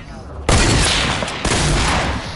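Gunfire from a video game match with an Enforcer skin: a loud, close barrage starts abruptly and rolls on, then a second sharp burst lands about a second later.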